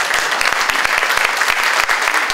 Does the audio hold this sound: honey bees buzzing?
no